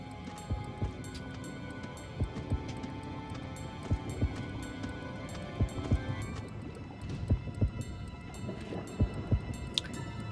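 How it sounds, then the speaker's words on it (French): Heartbeat warning sound from the video game The Legend of Zelda: Skyward Sword at the Volcan d'Ordinn, soft paired thumps repeating at a steady pulse beneath a busy layer of game effects, fairly quiet. "en plus, on a les battements de cœur"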